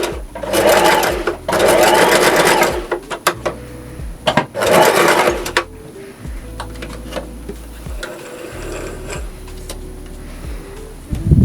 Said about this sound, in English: I'm just going to then back stitch and then stitch forward